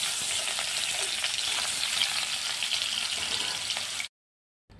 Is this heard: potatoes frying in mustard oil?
yes